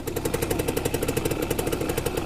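A 1990 Simson S51 moped engine runs with a fast, even two-stroke putter, pulsing rhythmically and close by, steady and fairly loud throughout.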